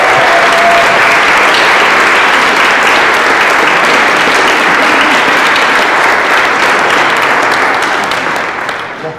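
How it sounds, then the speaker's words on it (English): An audience at a fundraising gala for Castleman disease research breaks into loud, sustained applause for the leadership team, a steady wash of many hands clapping, close and unbroken, tapering slightly at the very end. "I want to give you guys a round of applause"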